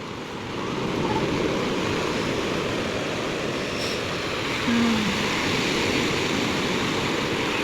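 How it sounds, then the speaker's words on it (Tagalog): Surf rolls onto Tondaligan Beach in a continuous broadband roar of breaking waves, steady and fairly loud, with a brief swell in intensity midway and no talking. "Hinihintay nila yung alon. Masarap na hintayin yung alon na yun."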